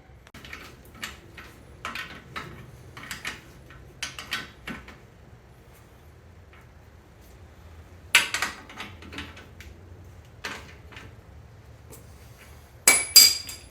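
Metal tools clink and tap while fasteners are snugged up on a 1967 Triumph T100C motorcycle, scattered short bursts of ratcheting and knocking with quiet pauses between them, close by.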